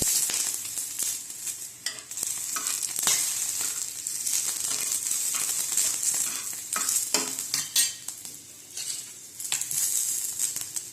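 Oil sizzles steadily in a pan for a rustic green chilli kharda, a bright continuous hiss broken by frequent sharp clicks and scrapes as the pan is stirred; no voices.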